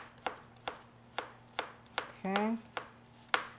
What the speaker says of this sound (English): So we're gonna chop up some onion.